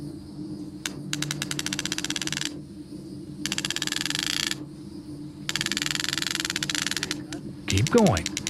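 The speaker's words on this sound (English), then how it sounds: "Now, tighten the braid with the ratchet system." A ratchet tightens ElectroBraid fence braid at a post in repeated bursts of rapid metallic clicking, each run lasting a second or two with short pauses between, close and clear over a low hum.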